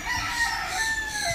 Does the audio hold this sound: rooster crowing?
yes